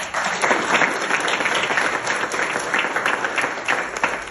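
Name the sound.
applause for the band secretary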